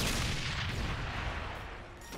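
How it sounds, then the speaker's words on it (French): Gunfire aimed at the player in Ratchet & Clank, a dense, loud barrage of booming shots and blasts merging into a continuous rumble with no talk over it. "Frère, qui me tire dessus encore?"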